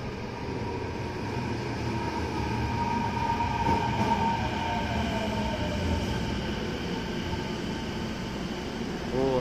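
A Kobe Municipal Subway train pulls into an underground station, a steady loud rumble with ringing tonal hum and a faint squeal of wheels, continuous throughout.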